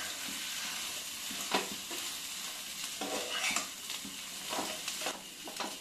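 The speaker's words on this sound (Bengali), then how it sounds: "ভালো করে নাড়াচাড়া করে নেব শুকনো শুকনো করে" Dry ingredients stirred in a hot pan for a Bengali sondesh-style snack, a steady soft rasp of scraping and shuffling with several sharper scrapes of the spatula and a faint sizzle, close by with no talking.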